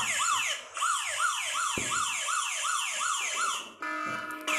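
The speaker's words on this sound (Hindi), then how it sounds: "अब मोबाइल पूरी तरीके से लॉक हो गया है और इस तरीके से सायरन कर रहा है" A mobile phone's anti-theft alarm wails in rapid repeating electronic up-sweeps, close and piercing, briefly changing to a steady tone near the end.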